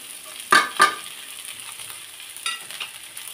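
Potatoes frying in a pan with green chilies and onion: a low steady sizzle broken by two quick, sharp stirring scrapes close together, then a couple of softer scrapes near the end.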